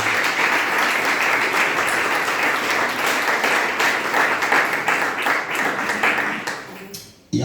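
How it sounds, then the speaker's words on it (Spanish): A church congregation applauds during a Spanish-language service, sustained dense clapping that stays loud and even for most of the stretch, then fades and cuts off near the end. "Denle un aplauso al Señor esta mañana"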